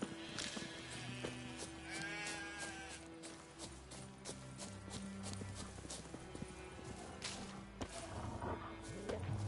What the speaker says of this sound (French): Des moutons.